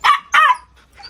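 A black Gultair dog barks three times in quick succession, sharp and close, with brief silences between barks.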